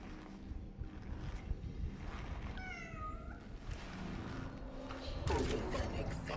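A cat in the sci-fi horror video game Cronos: The New Dawn gives a single drawn-out meow, faint against a low ambient hum with mechanical creaks, and a heavier thud follows soon after.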